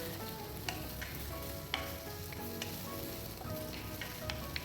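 Fried potatoes are stirred into a soy and tomato sauce in a pan, giving a soft, steady sizzle broken by a few light scraping clicks of the spoon, faint and close, with no voices.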